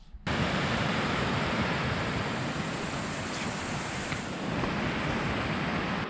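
Small mountain waterfall near the Drayères refuge on the Mont Thabor circuit, a steady, even rush of falling water close by, with no voices.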